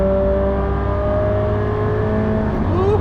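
A Nissan S15 engine revs hard after a downshift into third gear, a loud, steady high whine heard close from inside the car and rising slightly in pitch at the end, with no talking.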